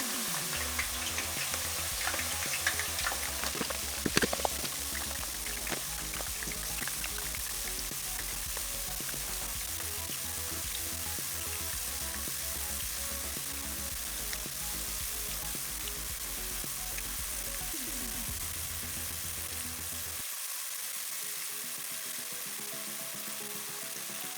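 Chips frying in a pan, a long steady sizzle and bubbling with small crackles throughout, moderately close, while a low rumble under it drops away near the end.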